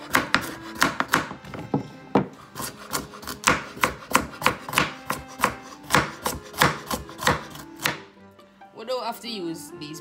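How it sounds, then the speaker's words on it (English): Carrots and pineapple chopped with a knife on a cutting board: a steady run of close, crisp knocks for about eight seconds, then a pause as pieces are handled. "I would suggest that you chop these."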